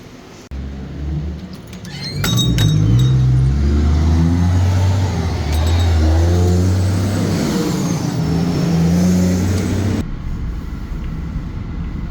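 A car pulls away and cruises down a road, its engine hum swelling after a few early clicks, then holding a steady, close drone before easing off near the end.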